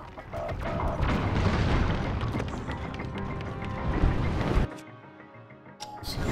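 A bomb blast in Zelda: Tears of the Kingdom, dropped from the air, gives a loud, heavy boom with rumbling debris that builds and then cuts off abruptly, followed by quieter game ambience.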